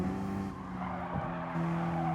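Car tires squeal steadily in a Gran Turismo Sport race, a continuous skidding screech over engine drone with no voices.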